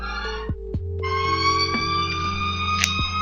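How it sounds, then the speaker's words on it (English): A loud, close electronic siren from a Mars colonization strategy game holds layered steady tones that step and glide in pitch, with a few brief clicks. "Get some high quality siren action."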